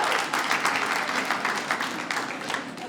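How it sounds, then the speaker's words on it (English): A live comedy-club audience claps together, a dense steady burst of applause close up that tapers slightly toward the end. "Clap if you're the clean one tonight."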